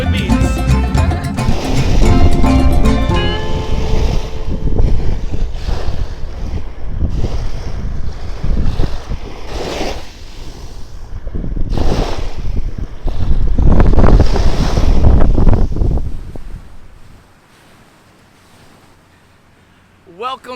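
Atlantic Ocean surf at Hollywood Beach washes in loud, broad surges beneath heavy wind buffeting the microphone, with voices talking over it before fading to near quiet.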